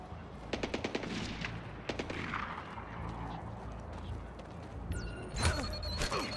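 Gunfire in the stealth action game Splinter Cell Blacklist: a burst of rapid automatic shots early on, a second short burst near two seconds, then sharper shots and clatter toward the end, mid-distance against a steady game ambience.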